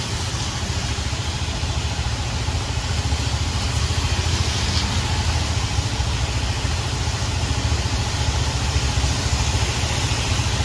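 An auto-rickshaw engine idles steadily in heavy rain on a Mumbai road, a constant low rumble and vibration under the broad hiss of rainfall, loud and unbroken with no talking.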